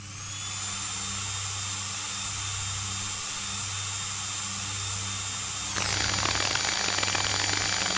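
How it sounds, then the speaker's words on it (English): Machine drill in the game Stories Untold whines steadily at high pitch, then shifts abruptly into a rougher, harsher grinding near the end, loud and continuous with no talk. "What are we drilling here?"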